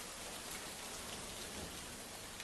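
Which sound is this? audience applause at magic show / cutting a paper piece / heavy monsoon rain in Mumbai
heavy monsoon rain in Mumbai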